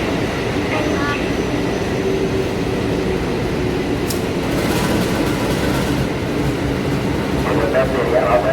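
A KRL commuter train arriving at Jatinegara station in Jakarta, with a steady, loud rumble of rolling wagons and track noise filling the whole stretch under a busy platform ambience, with a brief hiss midway and announcements or voices in the background.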